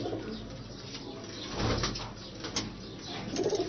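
Pigeons in a rooftop breeding loft, soft low cooing from several birds close by, with faint wing rustles and small shuffling noises.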